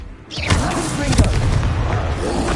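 Confringo blasting spell detonating in Hogwarts Legacy, a sudden loud boom after a brief quiet lead-in, followed by a second thump and sustained rumbling debris and game noise.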